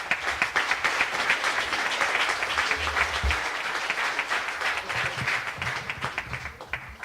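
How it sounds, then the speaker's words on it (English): An outdoor audience at a golf tournament event applauds Harriet Cole, a full, sustained round of clapping with crisp individual claps, fading slightly toward the end. "So I'm going to ask you to give a big round of applause for Harriet Cole."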